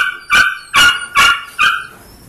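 Malinois puppies, 72 days old, bark: four loud, sharp yaps close by, evenly spaced in a quick series, with a faint whine at the end.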